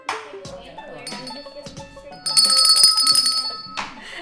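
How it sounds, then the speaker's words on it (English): A small bell is struck by a finger inside a cafe, giving several bright metallic pings with ringing tones that swell and fade, mixed with nearby talking voices. "My finger was there and it just got the bell."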